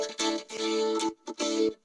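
A guitar riff processed with chorus and no reverb plays as a few short, dry bursts of notes separated by brief gaps, loud and close with a slightly gritty, modulated tone.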